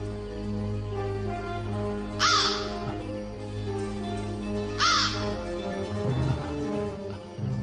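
A crow caws twice, several seconds apart, each a harsh drawn-out call over a steady droning musical background in an Indonesian folk-tale drama.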